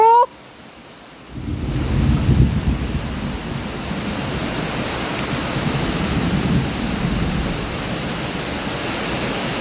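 Heavy rain pouring during a flood with thunder rumbling, a dense loud continuous roar that starts abruptly after a brief quieter moment and holds steady to the end.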